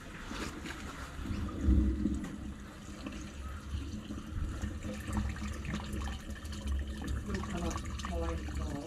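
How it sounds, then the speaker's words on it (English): A toilet in a home with a tree-root-infested drain is flushed, giving a steady rushing, gurgling water sound at low level throughout, with faint voices in the background. "Are you able to flush the toilet, please?"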